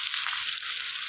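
Sliced onions and curry leaves fry in a pan with a steady, close, bright sizzle, unbroken across the brief moment and with no voice over it.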